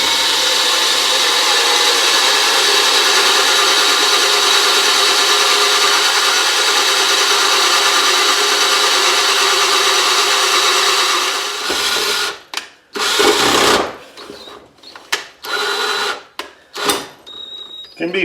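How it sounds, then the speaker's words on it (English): A long drill bit bores a hole down into an old meat grinder being made into a lamp, a steady grinding whir for about twelve seconds, then stopping and restarting in short uneven bursts. "And I got to drill a hole down in here yet."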